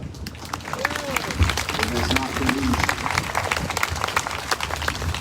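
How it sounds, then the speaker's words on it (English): An audience at a community conversation on racism in Elyria applauds, dense steady clapping at moderate level with a speaking voice briefly heard over it. "give a round of applause and a prayer for everyone that's come up this far"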